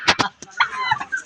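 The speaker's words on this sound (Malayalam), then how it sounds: "നാടൻ കോഴി, വാങ്കോഴി അല്പം ഒന്ന് കൂട്ടിനകത്താണ് അങ്ങ് ഇട്ടിരിക്കുന്നത്" Native hens and roosters in a coop cluck and squawk close by, a couple of sharp bursts followed by a run of chattering calls.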